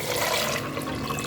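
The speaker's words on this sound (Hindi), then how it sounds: "इसमें हम पानी डाल देंगे।" Water pours steadily into a pressure cooker holding half a kilo of rajma kidney beans soaked overnight, a brief, close, continuous rushing splash with no talk.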